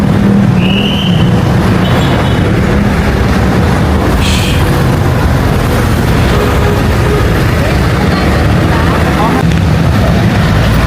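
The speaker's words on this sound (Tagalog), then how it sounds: "magka-tricycle na tayo papuntang Jmar's" A motorized tricycle rattles and drones loudly and steadily from onboard, with rushing road and wind noise and occasional voices underneath.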